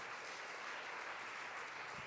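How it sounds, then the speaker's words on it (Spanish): A church congregation applauds during a Spanish-language sermon, a steady, fairly quiet wash of clapping lasting a couple of seconds without talk. "Den un aplauso al Señor"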